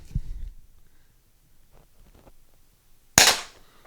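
An Umarex T4E HDP Compact .50 caliber PepperBall launcher fires one sharp, close, loud shot after a quiet stretch with only faint low thumps and shuffling.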